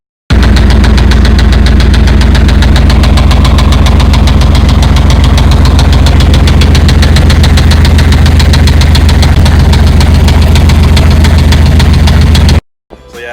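A faulty truck engine, started after sitting unused for a year, runs loud and steady with a rapid, even knocking pulse throughout, then cuts off abruptly near the end.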